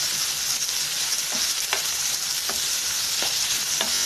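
Onions sautéing in a pan for a tomato kurma, a steady dense sizzle with a few sharp spatula scrapes spaced through, close and continuous with no talking.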